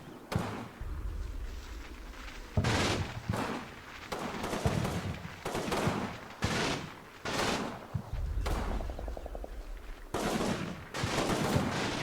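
Bursts of BAR automatic rifle fire in a Combat Mission wartime battle against partisans, a rapid series of loud, sharp volleys with brief pauses between them, mixed with other distant gunfire.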